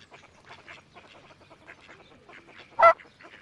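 Soft patter and clicks in a Montessori numbers and logic game app, then one short, loud quack-like honk of a cartoon duck near the end.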